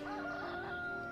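A rooster crows steadily in a rural setting, a sustained strained call with tonal harmonics at moderate distance, continuous throughout the short moment without speech.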